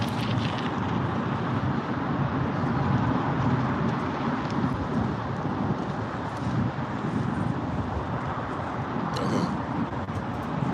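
Strong wind blowing steadily outdoors, a dense continuous rush that roars loud and unbroken throughout with gusty buffeting, with no speech.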